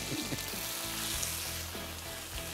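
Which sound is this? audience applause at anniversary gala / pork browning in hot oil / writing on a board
pork browning in hot oil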